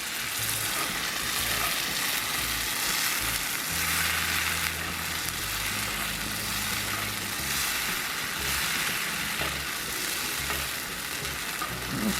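Beer poured into a cheese sauce in a cast iron skillet over a grill fire, a sustained, loud bubbling sizzle with low rumbling underneath and occasional stirring, no voices.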